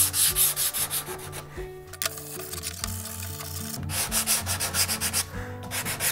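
Steady back-and-forth rasping of sandpaper on wood along the grain, close and continuous, with a brief pause partway through before the rhythmic strokes resume.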